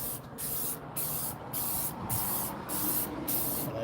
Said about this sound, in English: One to the side just to make sure that I'm not getting a really messy spray